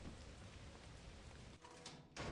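Rain weather in the video game Lethal Company, a steady hiss of falling rain that stays fairly quiet throughout, with a brief dip and then a louder burst near the end.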